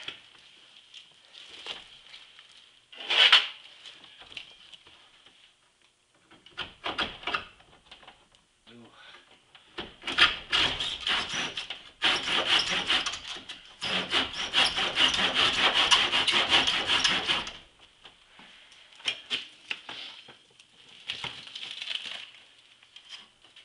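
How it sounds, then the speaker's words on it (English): A hand saw rasps through an osage orange wood bow stave in irregular bursts, building to a sustained run of quick back-and-forth strokes, close and crisp, with a few pauses between sections. "And finish this last cut up to cut it through so this doesn't pop."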